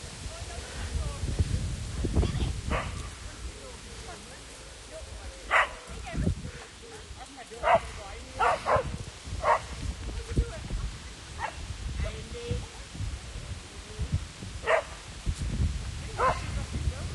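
A dog on a roadside by a roundabout gives several short, sharp barks and yips at a moderate distance, scattered over steady traffic and wind noise with people talking throughout.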